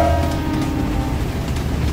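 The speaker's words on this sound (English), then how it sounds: "Oh, I hear a train." A train in the video game GTA 5 rolls past with a steady, continuous rumble and rattle of cars over the rails, loud and close, with no talk over it.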